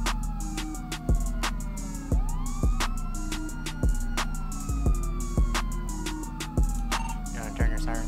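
Police car sirens in a video game wail and overlap in sweeping tones, layered over a steady rumble and regular thumping beats, with no talking.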